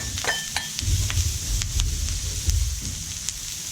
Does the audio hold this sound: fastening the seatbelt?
no